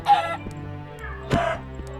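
A Minecraft chicken clucks in short separate bursts: two distinct clucks with a few quieter ticks between them against a still background.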